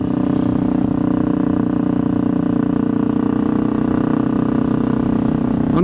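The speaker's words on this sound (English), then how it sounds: "And now this is what they sound like." A motorcycle with hollowed-out Scorpion mufflers, the fiberglass insulation stripped out, gives a loud, raw, throbbing exhaust note at a steady idle, close up and continuous, with no talk.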